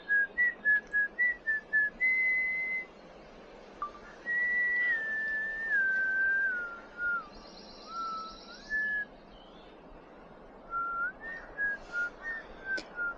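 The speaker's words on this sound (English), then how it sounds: "I think it's your whistling." A person whistles to a stork, starting with a quick series of short chirpy notes, then longer sliding and wavering tones, then more short bursts, clear and fairly close against quiet outdoor background.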